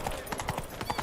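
Roach the horse clip-clops steadily at a walk in The Witcher 3, hoof strikes coming in a regular rhythm, fairly close and moderately loud, with faint game ambience underneath and no voices.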